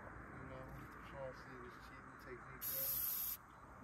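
A short burst of garlic spray hisses for under a second onto fishing bait, with quiet voices and background noise around it.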